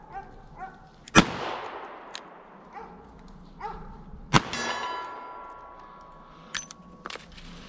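Revolver gunfire on an outdoor range, with a few loud cracks each followed by a bright ringing clang as rounds strike steel targets, plus fainter distant shots between them.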